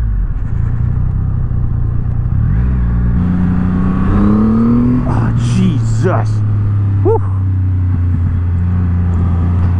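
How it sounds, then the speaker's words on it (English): A Triumph Rocket 3 R motorcycle with a 2.5-liter triple engine accelerates hard, its loud, steady drone climbing in pitch with a few sharp exhaust pops, while the rider exclaims over it. "I like those little backfires with the exhaust."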